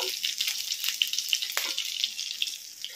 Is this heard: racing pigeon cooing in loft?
no